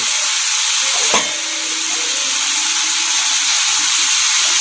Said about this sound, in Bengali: এবার সয়াবিনগুলোকে দিয়ে দিচ্ছি, একসাথে ভেজে নিচ্ছি সব